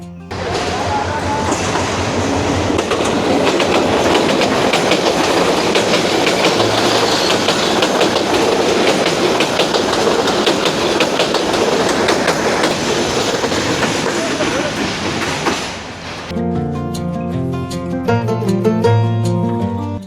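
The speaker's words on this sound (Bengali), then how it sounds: "অবশেষে আমরা ট্রেনে দেখা পাইছি" A passenger train rolls past close by near the Srimangal tea gardens, a loud continuous roar with rhythmic clickety-clack of wheels over rail joints, ending abruptly before quieter background sound takes over.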